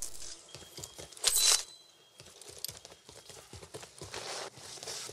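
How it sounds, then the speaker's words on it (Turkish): Footsteps approaching in the game Warzone, a run of fast, close steps on a hard surface with a louder burst near the middle, continuing steadily to the end. "Ayak sesleri geliyor şu an."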